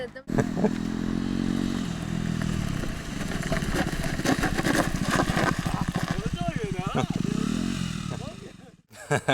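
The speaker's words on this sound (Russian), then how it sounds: "Но перед уездом Беслан решил протестировать мой мотоцикл." A motorcycle engine revs and runs nearby, rising and falling in pitch with throttle changes, loud throughout, briefly cutting out near the end.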